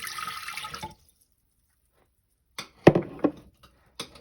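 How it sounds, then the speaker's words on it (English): A cup of water is poured into a slow cooker for a pot roast, a brief splashing pour lasting about a second, then silence and a few sharp clunks of the pot or utensils. "We're going to do a cup of water."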